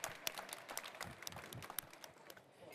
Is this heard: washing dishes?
no